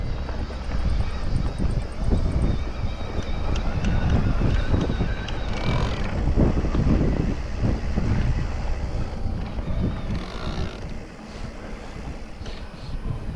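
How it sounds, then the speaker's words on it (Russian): Strong wind in Crimea buffets the microphone in a steady low roar with gusty swells, loud and close throughout, with no voices. "Ого, тут ветер"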